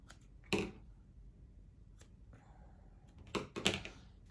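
Scissors snip little strips of decorating material for an Easter comic cake, a few sharp close cuts around the half-second and three-and-a-half-second marks over a quiet room hiss.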